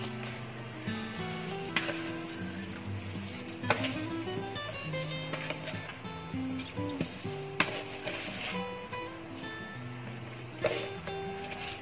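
Glutinous rice stirred in a pan with coconut oil, a soft steady sizzle with scraping stirs, while music plays throughout.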